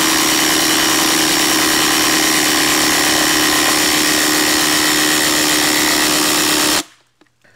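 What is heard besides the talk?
Hercules impact driver driving a lag screw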